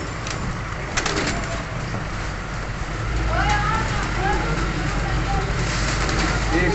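Soft pigeon coos come and go in the background amid steady outdoor noise at a pigeon breeder's in Faisalabad, with people talking nearby.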